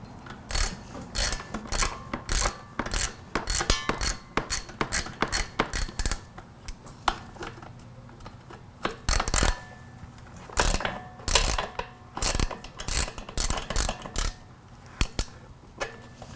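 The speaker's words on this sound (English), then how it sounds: "Now there's two 8mm nuts on the back of the bike directly under the tail that we're going to loosen up." A ratchet wrench loosens two 8mm nuts beneath the tail of a Honda CRF50 motorcycle, with bursts of rapid clicking close up, a quiet gap partway through, then more clicking runs.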